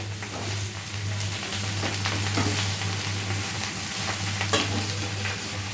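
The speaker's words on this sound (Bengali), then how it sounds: "দেখো এবার এই শাকটাকে ভাজা হবে" Bottle gourd greens sizzle steadily in a hot pan, with occasional stirring scrapes close by and a constant low electrical hum underneath.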